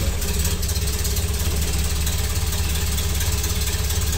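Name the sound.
Ford Model A engine with Burtz block starting and idling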